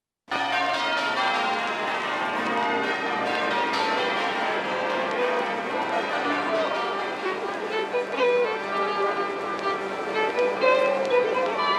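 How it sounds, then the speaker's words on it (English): The bells of St. Paul's ring steadily with a dense, shimmering wash of overlapping tones, mixed into a full musical backdrop that carries on throughout. "I added in the bells of St. Paul's into it"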